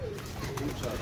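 Pigeons coo softly inside a heated coop, a low, steady murmur with a voice speaking faintly underneath.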